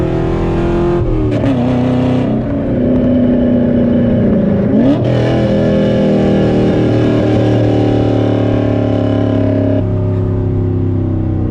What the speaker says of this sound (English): I mean, guys, straight piping this car really